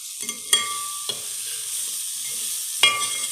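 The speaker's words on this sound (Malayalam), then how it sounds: "വീണ്ടും നമുക്കിത് നന്നായിട്ട് യോജിപ്പിച്ചെടുക്കുക അതിൻ്റെ ആ പച്ച മണം മാറുന്നത് വരെ നമുക്കതൊന്ന് ജസ്റ്റ് വഴറ്റിയെടുക്കാം" Beef being sautéed with chili powder and turmeric, with a spoon scraping and clinking against the pan several times over a soft continuous sizzle.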